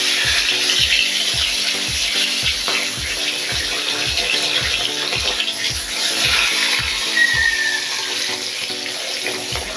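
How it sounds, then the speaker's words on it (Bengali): Pabda fish frying in hot oil in a kadai give a loud, continuous broadband sizzle, with a regular soft thumping pulse underneath throughout. "মাছগুলোকে হালকা করে ভেজে নেব।"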